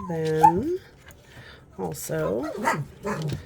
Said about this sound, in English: don't mind my puppies in the background playing